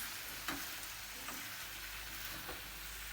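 Potatoes fry in a pan with a steady broadband sizzle, broken by a few soft stirring scrapes; close and continuous, with no talking.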